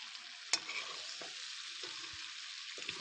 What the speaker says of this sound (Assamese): জোখমতে নিমখ হালধি দি মাংসখিনি ভালকৈ ভাজি লৈছোঁ